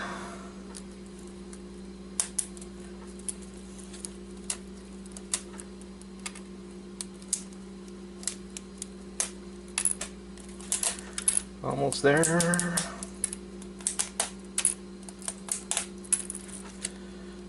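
Keys are pried off a broken computer keyboard, giving sharp plastic clicks and snaps scattered irregularly over a steady hum, with a denser flurry of rattling midway and someone briefly speaking.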